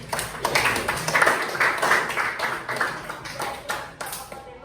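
A classroom gives a student group a round of applause: many hands clapping in a dense, uneven burst that gradually thins out, with faint voices underneath.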